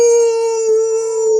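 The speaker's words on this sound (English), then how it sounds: "The stillness is broken by the distant plaintive howling of a coyote." A coyote gives a long, steady, wavering howl that holds one sustained pitch, with no other sound around it.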